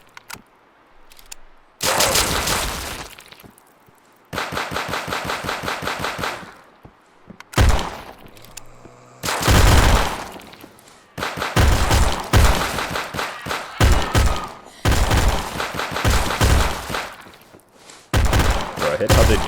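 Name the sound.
TP9 SFX gunfire in video game Those Who Remain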